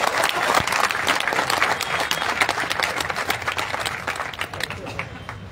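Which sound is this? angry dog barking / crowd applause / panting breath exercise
crowd applause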